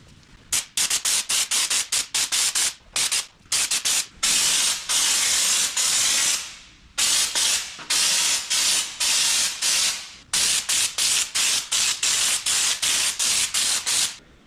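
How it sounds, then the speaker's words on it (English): Bursts of spray paint hiss in repeated short and long blasts on classic VW Beetle parts, some sustained for a couple of seconds, with brief clicks between them, loud and close. "Let's carry on spraying."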